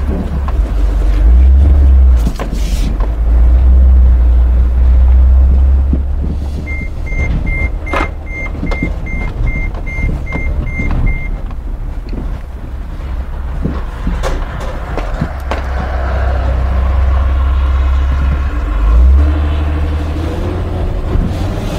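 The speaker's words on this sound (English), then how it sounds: "Okay, so actually I'm accelerating all the way to the floor." A Dodge Sprinter van with a fault that holds it to low road speed is driven at full throttle. Its loud engine drones and rumbles with deep surges from the road, and a faint steady electronic beep sounds partway through.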